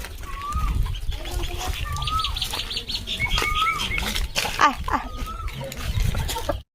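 Chickens cluck and squawk while wings flap in bursts close by as they are herded by a pond, with soft thuds and rustling as the birds scatter about.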